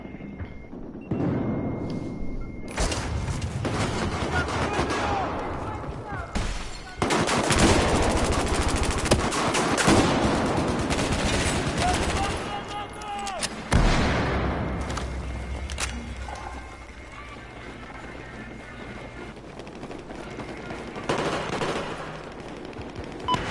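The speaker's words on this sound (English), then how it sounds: "I'm taking heavy fire over here!" Heavy, sustained gunfire from a Battlefield 4 battle: dense automatic bursts and booming impacts roll on almost without pause for over twenty seconds, loud and close.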